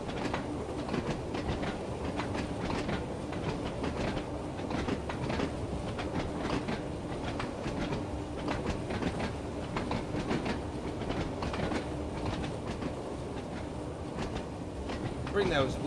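Class 101 diesel multiple unit with manual gearbox running in Train Sim World 2, giving a steady rumbling rail drone with clickety-clack of wheels over joints, continuous and fairly close, with talk over it.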